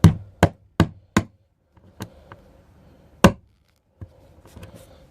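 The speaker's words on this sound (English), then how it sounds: "What I do is I actually use a pair of tweezers just to hammer it in." A model railway track pin hammered in with tweezers: a quick run of four sharp metallic taps, then scattered single knocks with quiet gaps and faint handling noise in between.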